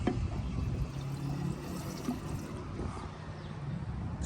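Diesel Extreme fuel additive glugs steadily into a truck's fuel tank, a faint, continuous liquid pour with no voices over it.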